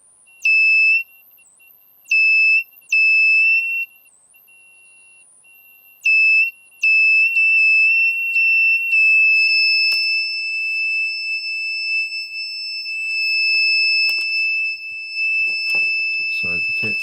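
A DIY laser doorway alarm kit for ghost hunting sounds a piercing electronic tone in several on-off bursts, then holds steadily for a long stretch while someone talks over it.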